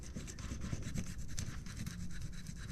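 Knife blade sawing through the tough, leathery skin of a permit fish while filleting it, a close, steady rasping scrape with quick repeated strokes and no talking.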